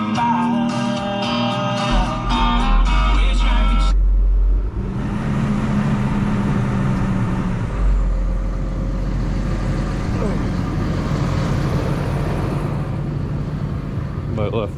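A tracked machine on a land-clearing job runs its engine at full throttle, a steady loud low roar that holds throughout, with strong low rumble and shifts in tone partway through; a voice talks over it.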